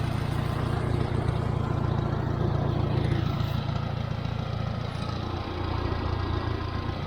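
A Farmall 350 tractor engine running steadily, a low rumbling drone that holds even for the whole stretch with no voices over it.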